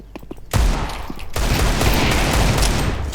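Gunfire in a video game erupts as a sudden loud burst and keeps going as sustained rapid fire, with no talk over it.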